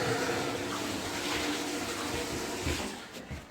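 Water sprays and hisses steadily from a leaking Glacier Bay bathtub faucet spout assembled on plastic PEX piping, a continuous close rushing splatter that tapers off near the end.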